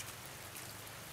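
Rain falls steadily outdoors, a soft, even hiss of drops with no talking.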